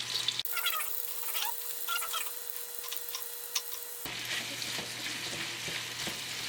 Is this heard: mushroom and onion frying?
yes